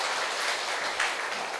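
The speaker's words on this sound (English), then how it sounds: "let's give a big round of applause for Madam Alvareen" Audience applause for a guest at a program event, a steady dense patter of many hands clapping throughout, moderately loud and fairly distant, with no talk over it.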